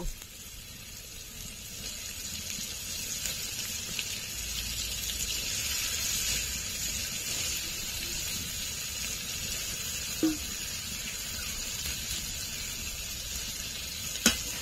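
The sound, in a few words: minced meat sizzling in oil and spices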